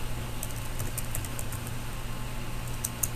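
Light, quick keystrokes tap on a computer keyboard in a quiet room, a soft irregular patter of clicks over a faint steady hum.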